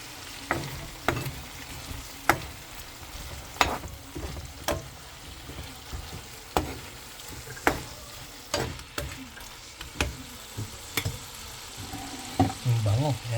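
Shrimp fries in butter in a pan, sizzling steadily while a utensil stirs and scrapes it with sharp intermittent clacks against the metal, close and continuous.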